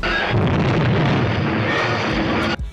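A sustained, heavy rumbling blast that roars with broadband noise for over two seconds, then cuts off abruptly.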